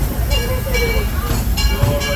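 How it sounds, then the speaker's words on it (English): A Disneyland Railroad train rolling into Tomorrowland Station, with a close, steady rumble of wheels and carriages and faint squeals as it slows, under crowd murmur and an announcement voice. "Please try to continue until the train comes to a full and complete stop."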